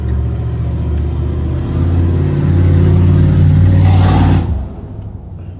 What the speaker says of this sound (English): diesel trucks just be blowing by